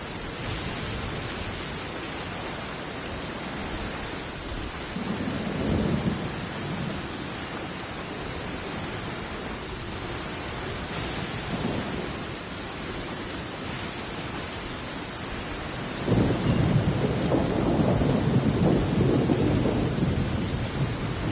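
Steady rain falling with low rolls of distant thunder at intervals, the last and loudest rumble swelling near the end and lasting several seconds; no voices.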